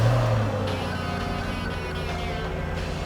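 A 2003 Mercedes-Benz SL500R engine catches close by and settles straight into a steady, low, rumbling idle that holds evenly throughout, with no voices.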